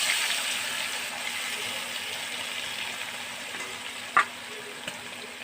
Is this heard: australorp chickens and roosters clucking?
no